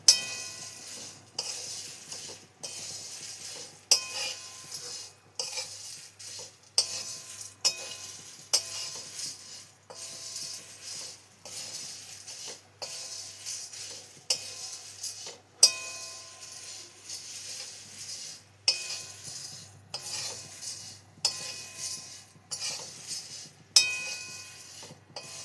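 Black and green cardamom, cloves, black pepper and nagkesar roast dry in a pan, with a faint sizzle under repeated scraping and clinking of a spoon stirring at an unhurried pace.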